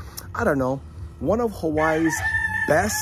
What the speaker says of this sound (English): you can hear the noise with the roosters in the background.